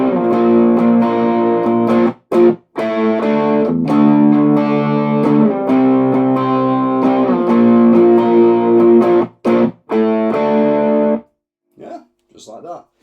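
Distorted electric guitar power chords, strummed in loud, chunky bursts with short breaks, sustained chords, and a few quiet plucks at the end.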